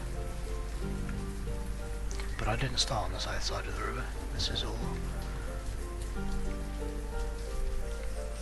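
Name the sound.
rain in the video game Banished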